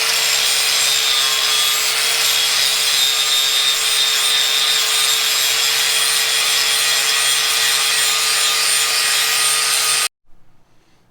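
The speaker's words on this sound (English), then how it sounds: "Or if it's just a little bit, like in this case, you can get the grinder out." An angle grinder cuts metal on an Armada to make clearance for bigger tires. It gives a loud, steady, close whine with a constant hum for about ten seconds, then stops abruptly and spins down.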